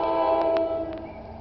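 NJT commuter train passing at Glen Rock, a droning rumble with a sustained tonal hum and a few brief clanks, loud at first and gradually fading.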